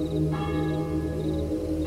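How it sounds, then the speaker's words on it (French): Village church bell resonating in an abandoned village, a sustained ringing metallic tone with layered overtones that swells and fades, fairly loud and continuous without a clear count of strokes, no talking. "j'entendis résonner 3 fois la cloche de l'église"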